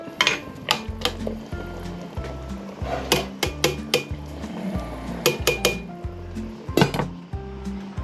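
Metal pot lid clanking and clinking repeatedly onto a cooking pot of Filipino sinigang with eggplant and string beans, a series of sharp close knocks and rattles over a low steady hum.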